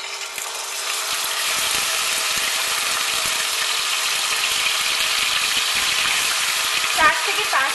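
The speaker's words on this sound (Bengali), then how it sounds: "তেল সামান্য গরম হয়ে এলে আমি তাতে দিয়ে দেবো onion and green chilli paste" Onion and green chili paste fries in hot oil, giving a steady, dense crackling sizzle close up that runs unbroken throughout, with a faint clink near the end.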